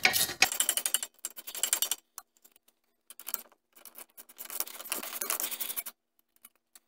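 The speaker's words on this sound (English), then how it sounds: "So we're just going to take these two caliper bolts off." A ratchet wrench loosens the two brake caliper bolts on a car with spongy brakes, giving close, rapid metallic clicking in several bursts with short pauses between, and no talk.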